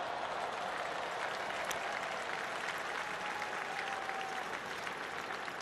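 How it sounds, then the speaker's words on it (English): Steady, dense applause from a baseball stadium crowd at a Blue Jays–Rays game, a continuous wash of distant clapping and crowd noise that holds evenly throughout without pause. "a nice round of applause"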